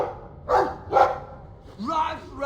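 A dog in the video game Dragon Age II gives two short barks followed by a softer, drawn-out yip, with game dialogue and a player's voice around it.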